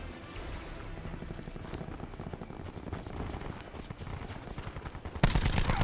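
Rapid gunfire from Call of Duty Black Ops 4 multiplayer rattles on steadily at moderate volume, a dense stream of quick shots that turns to a louder burst near the end, with no clear speech.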